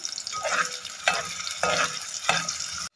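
Chopped onions sizzle and crackle in a pan as they are lightly browned for a moong daal chicken dish, with four regular stirring bursts standing out above a steady, close frying hiss.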